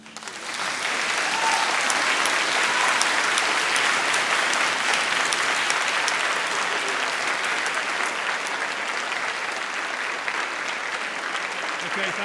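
Sustained, dense applause from a large crowd in a university graduation hall, as graduates clap for their families and friends, rising quickly and holding steady and loud throughout.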